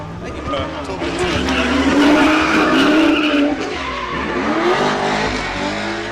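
A drift car in the F-8 Drift Series slides with loud, sustained tire squeal and engine roar, the skid rising and holding for several seconds, while voices talk over it.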